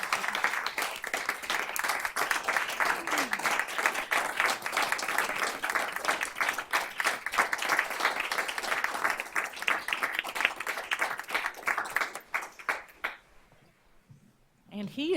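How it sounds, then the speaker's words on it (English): Steady applause fills a school district board of trustees meeting, many hands clapping together in a sustained, even patter that runs for several seconds before tapering off into quiet. "let's give him a round of applause and thank him for his service."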